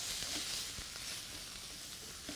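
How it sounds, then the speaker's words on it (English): Rice toasting in a pot of browned jambalaya base gives a steady, fairly quiet sizzle with faint scattered crackles, heard alone with no talking. "we're gonna cook our rice for about 1 or 2 minutes"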